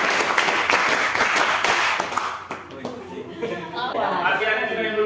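A class of students claps together in a quick counted pattern of five claps and then two, loud and near, with chatter and some laughter as the clapping fades into talk.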